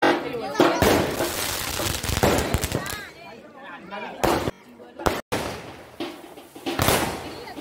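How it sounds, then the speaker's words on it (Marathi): Firecrackers and fireworks bang at a Vithoba Rakhumai temple anniversary celebration in Ratnagiri before a palanquin procession. Loud, sharp blasts and crackling bursts come in irregular clusters, with voices talking between them. "फटाक्यांच्या सुंदर अशा आतिषबाजीनंतर विठोबा रखमाईची ही पालखी मंदिरामध्ये नेण्यात येणार आहे"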